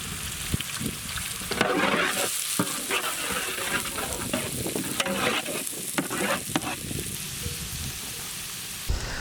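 Garlic and finely chopped onions fry in a pan for a chicken dish, a loud, dense, close sizzle with bursts of crackle and the scrape of stirring running throughout, no voices.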